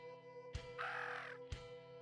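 Two short, loud caws from a crow in the video game Unreal Life, spaced about a second apart, with a softer, drawn-out rasping call between them over quiet ambient game music.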